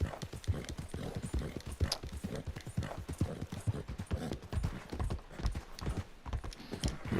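Horse hooves clip-clop in the video game Red Dead Redemption 2, a steady, rhythmic trot of close, loud hoofbeats that continues without pause.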